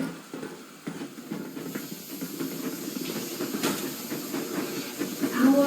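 Steam locomotive hissing in the video game Metro Exodus, a steady airy hiss with rumbling train noise underneath that gradually grows louder toward the end.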